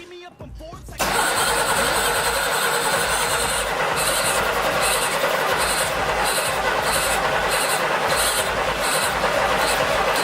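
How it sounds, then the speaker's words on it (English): A 1985 Pontiac Fiero GT engine, given a shot of ether, cranks briefly and then catches into a loud, steady running roar that carries rhythmic pulsing throughout, close to the listener. "Alright, we just put a little ether in. See what she got, Alex."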